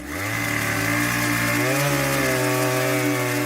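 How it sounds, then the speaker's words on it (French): A chainsaw revs up loudly and holds a steady, buzzing high-pitched drone close by, with no voices. "Cette histoire commence au son d'une tronçonneuse."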